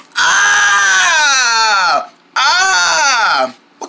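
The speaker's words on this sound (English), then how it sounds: "What kind of scream is that?" A person lets out two long, high, wavering screams, the first about two seconds and the second shorter after a brief pause, loud and close.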